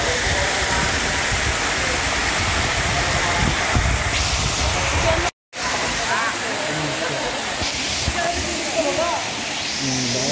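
Daranak Falls roars with steady, dense rushing water, loud and close throughout, with a brief dropout midway and faint voices mixed into the constant wash.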